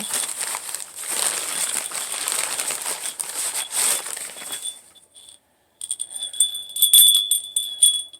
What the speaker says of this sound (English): And this is a bell, because I can hear the ting ting thing.